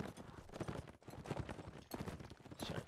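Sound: horse hooves clip-clopping in Mount & Blade Warband video game

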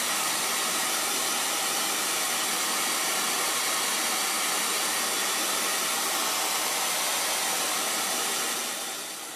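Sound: hair dryer drying paint

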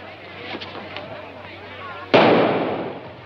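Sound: gunshot in a 1941 film

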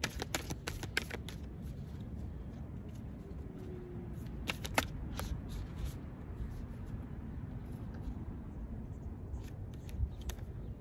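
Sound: shuffling tarot cards

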